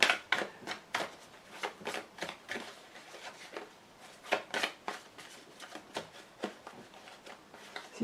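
Lenormand fortune-telling cards being shuffled by hand in a quiet room, a steady run of crisp riffling snaps and soft slaps repeating roughly every half second.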